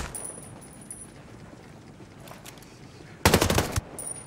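VHSD2 rifle fire in the video game Ghost Recon Breakpoint: one short, loud burst of rapid shots over quiet game ambience, after a couple of faint earlier pops.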